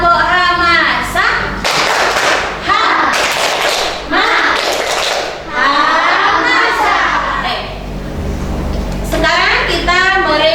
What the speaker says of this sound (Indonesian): Tepuk hamasah.